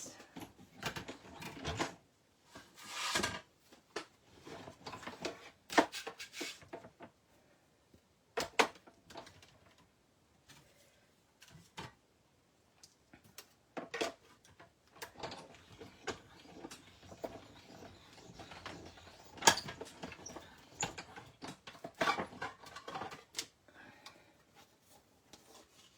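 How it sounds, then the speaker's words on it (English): A die cutting machine working a card, irregular mechanical clunks, whirs and grinding passes spread out with quieter gaps between, close by and uneven in loudness. "I'm just going to die cut this."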